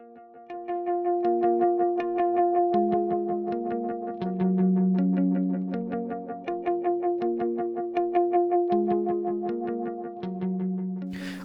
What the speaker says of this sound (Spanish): El siguiente efecto que también es muy usado es el delay